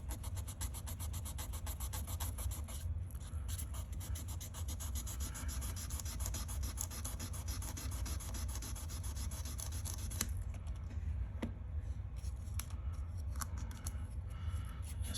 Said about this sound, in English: I think we're gonna have to use some sandpaper on it.